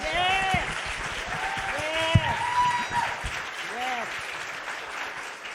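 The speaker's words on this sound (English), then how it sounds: "if there's a moment for applause, it's to applaud that" Audience applause at a movement gathering, moderate and steady, with a voice speaking over the clapping throughout.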